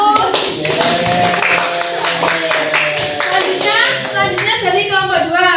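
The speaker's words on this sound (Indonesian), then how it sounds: "Beri tepukan untuk anggota Trista dari kelompok 1." Students in a classroom clap together for a classmate, a quick, loud run of close handclaps with lively voices and children's chatter mixed throughout.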